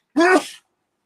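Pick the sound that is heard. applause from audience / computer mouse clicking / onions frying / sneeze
sneeze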